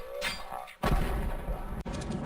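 Grenade blast in CS:GO during a competitive match, a sudden loud boom near 0.8 s that rumbles and decays, followed by another sharp crack near 1.8 s over a busy background of game noise.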